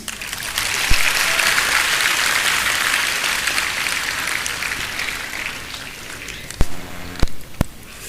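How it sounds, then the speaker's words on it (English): An audience claps hands at a university alumni meet, a dense steady round of applause that thins out near the end, leaving a few sharp, isolated knocks or claps. "Won't you clap hands?"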